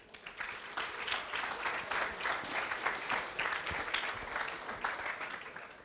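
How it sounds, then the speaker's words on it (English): Warm audience applause at a startup pitch event in Tel Aviv, honouring the sponsors; dense, even clapping from a sizeable crowd, moderately distant, holding for several seconds. "So let's give them each a round of applause."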